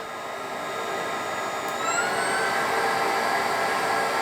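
A Viomi A9 cordless stick vacuum runs at medium speed, a steady close whine with a high airflow hiss that steps up slightly in pitch partway through.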